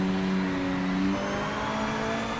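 A GTE race car's engine in Project Motor Racing accelerating out of a corner, a loud tonal engine drone whose pitch shifts about halfway through as it pulls away, steady and without any talking.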